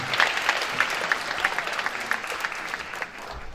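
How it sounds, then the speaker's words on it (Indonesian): An audience at an opening ceremony bursts into steady applause, a dense wash of many hands with a few sharper individual claps standing out, continuing loud throughout. "tepuk tangan buat kita semua"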